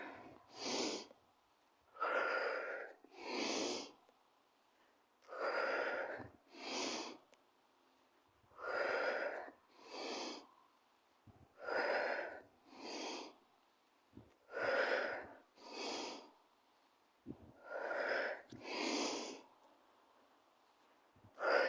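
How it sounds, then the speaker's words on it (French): Rhythmic, audible breaths during a yoga mobility exercise, paired inhales and exhales repeating steadily about every two seconds, close and fairly loud, with no talking. "et on respire"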